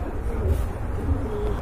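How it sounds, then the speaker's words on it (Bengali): A male white pigeon at a bird seller's stall coos in low, soft, repeated notes that run continuously and close by, with faint background murmur. "যেটা ডাকছে ওটা হচ্ছে কোকা কবুতর"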